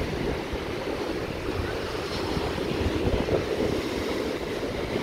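Rough sea surf breaking on a beach on a very windy day, a continuous loud roar of waves with steady wind buffeting the microphone throughout, no voices.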